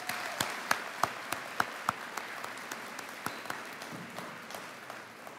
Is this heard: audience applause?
yes